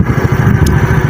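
A motorcycle engine runs steadily at close range, giving a loud, continuous mid-pitched drone with a slight rhythmic pulse, and no voices.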